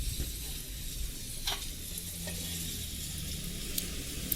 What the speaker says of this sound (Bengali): সুন্দর করে উচ্ছেগুলোকে ভেজে নেবেন বন্ধুরা